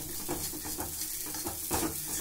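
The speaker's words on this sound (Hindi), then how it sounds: "इसको अच्छे से भुनने तक, ऐसे जब तक ये पूरा सफेद ना हो जाए तब तक हमने इसको भुनना है" Edible gum (dangkher) roasting in a pan for laddoos crackles and sizzles steadily, with repeated scraping stirs of a spoon against the metal pan at a close, moderate level and no speech.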